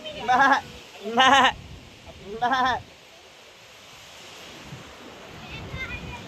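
A lamb bleats three times in quick succession, fairly close, followed by soft outdoor ambience with wind.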